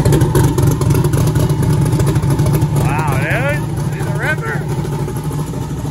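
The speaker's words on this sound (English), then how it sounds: "like the turbo noise is so loud." Turbo spool from a 2,000-horsepower twin-turbo Chevrolet El Camino on its first drive, a rising and falling whistle over a loud, steady engine drone, with voices talking inside the car.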